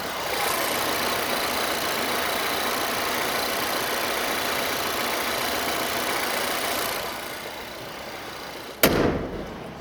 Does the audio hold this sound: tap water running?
no